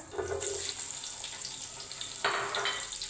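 Onions hiss and sizzle as they go into hot oil for a Sindhi pulao biryani, a steady close crackle that swells briefly midway.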